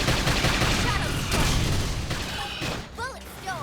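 Rapid gunfire in the video game Xenoblade Chronicles X crackles as a dense, continuous barrage, mixed with game voices and effects and growing slightly sparser toward the end.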